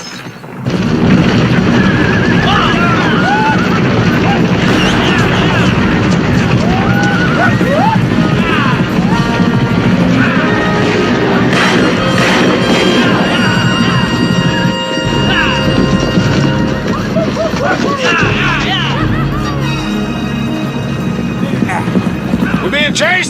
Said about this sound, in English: Mr. Guston got the horses.